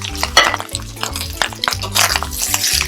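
Shrimp stir-fried in a pan for fried rice, with steady frying sizzle, a utensil scraping and clinking against the pan, and quiet low background music underneath.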